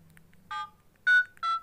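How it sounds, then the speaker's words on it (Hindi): A phone sounds a few short electronic dialing tones while a call is placed, three distinct beeps in a quiet room. "आपके सामने फ़ोन लगा कर"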